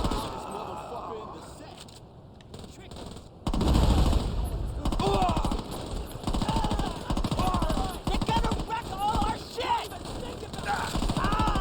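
Rapid machine gun fire rattles out in long bursts during a Saints Row video game shootout, loud and continuous over a few seconds, with someone talking over the gunfire.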